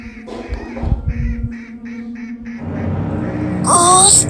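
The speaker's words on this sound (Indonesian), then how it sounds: "Gusti, bebek-bebek emak." Several loud, nasal quacks ring out close by, ending in a burst of harsh honking calls over a faint background hum.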